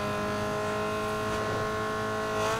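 A Peugeot roars through a race in Need for Speed Underground 2, its engine holding a steady high-pitched whine with layered harmonics that climbs slightly toward the end, loud and continuous with no talking.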